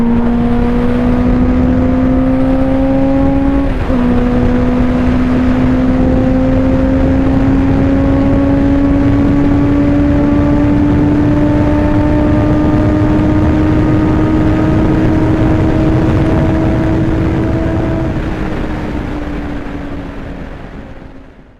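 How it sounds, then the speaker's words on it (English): Honda CBR650R motorcycle ridden with its mirrors removed, a loud steady engine drone with a rising whine and a brief shift, under constant rushing wind noise that fades at the end. "the wind is going to be a bit worse"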